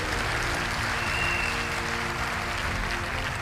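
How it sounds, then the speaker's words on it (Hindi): A crowd at a Hindi-language direct selling company event applauds steadily and loudly, sustained clapping with no break throughout. "मैं चाहूंगा एक बार तालियां जोरदार"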